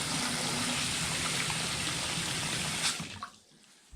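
Cold tap water runs steadily in a loud, close, continuous gush, then cuts off near the end, leaving a quiet tail.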